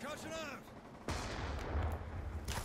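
Black Ops 2 burst-weapon gunfire cracks out in a sudden loud report partway through, followed by rumbling game noise and a few quieter sounds, with a voice faintly present.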